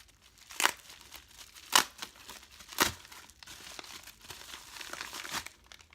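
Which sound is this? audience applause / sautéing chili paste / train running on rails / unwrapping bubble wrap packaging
unwrapping bubble wrap packaging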